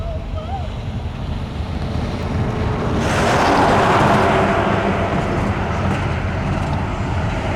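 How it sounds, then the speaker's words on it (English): A pair of SD40-2 diesel locomotives move through a rail yard in Elkhart, Indiana, giving a steady, loud rumbling roar that swells toward the middle and stays heavy throughout. "we saw another set of trimmers made up of 2 SD40-2s this time, and they moved eventually to go back farther into the yard"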